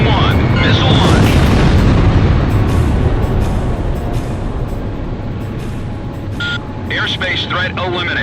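Missile launch and explosion in the Ace Combat Zero combat flight game on PS2, a loud roaring blast that builds then slowly tails off over several seconds, with radio chatter and warning tones near the end.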